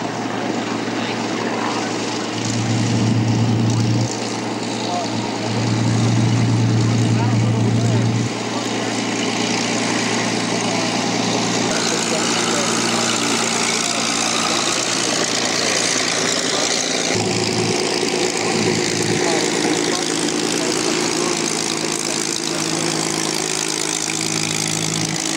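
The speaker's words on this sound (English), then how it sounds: "the two Mark 5 Spitfires, which one is fired up and the other one has yet to be started." A Mark 5 Spitfire's piston engine runs on the ground at the 1998 Duxford Autumn Air Show, a steady low throbbing drone with a few surges in strength, continuous and fairly close throughout.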